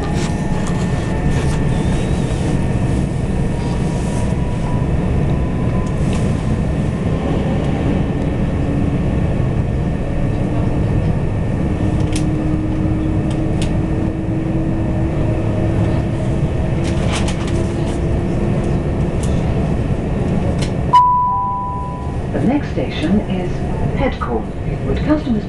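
Inside a moving train between Staplehurst and Headcorn, a constant low rumble of wheels on track fills the coach, with a faint motor whine slowly rising in pitch and brief clatters.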